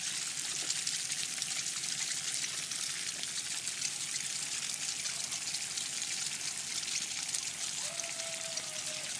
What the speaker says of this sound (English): Let me just rinse this one off.